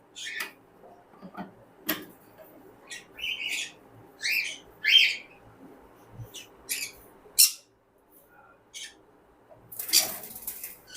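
White and pineapple cockatiels in breeding cages give scattered bright chirps and short calls, some close and sharp, others softer, over a quiet background.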